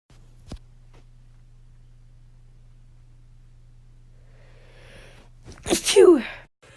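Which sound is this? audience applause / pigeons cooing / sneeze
sneeze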